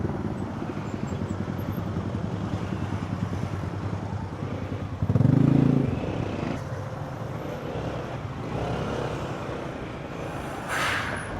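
Motorcycle engine noise riding through slow holiday traffic on a road toward Baguio, a steady droning rumble throughout with a louder low burst near the middle, and no talking.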